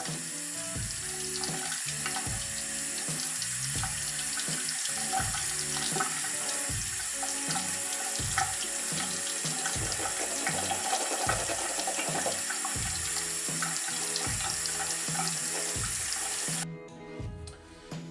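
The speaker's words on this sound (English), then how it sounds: "I'll just like scrub the soap in between here and then just wash it." Tap water runs steadily into a sink while a makeup brush is scrubbed and rinsed, a continuous close splashing flow that cuts off near the end.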